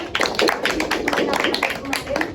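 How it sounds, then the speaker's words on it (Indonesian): Classroom applause for a student during a microteaching lesson, a short stretch of uneven clapping from a small group, with a voice speaking over it. "Tepuk tangan buat Mbak Dina."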